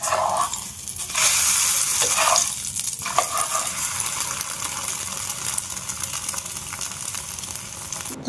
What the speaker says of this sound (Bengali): এই দেখো কিছুটা ভেজে থাকা পরোটাকে এইভাবে ডিমের মধ্যে মাখিয়ে নিয়ে যে তাওয়াটা বসেছি ওই তাওয়াতে এখন দিয়ে দেবো আমি